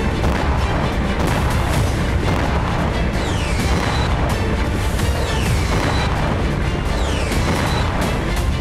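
Ukrainian strikes hit Crimea, with a dense, continuous roar of explosions and deep booms, some whistling streaks passing overhead. The sound is loud and sustained throughout, with no voices.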